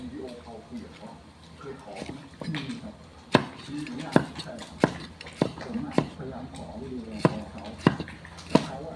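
Sharp knife chops on a cutting board, a dozen or so irregular strikes, close by, with a person talking throughout.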